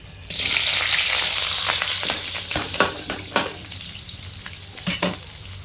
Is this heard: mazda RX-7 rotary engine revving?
no